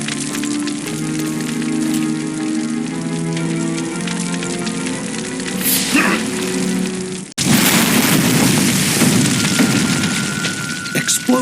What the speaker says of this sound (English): Explosions rocked the hospital.